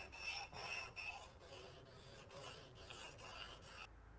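A blade edge rubbed back and forth on a sharpening stone, flattened toward the cutting edge, making repeated close gritty rasping strokes in a steady rhythm that stop abruptly near the end.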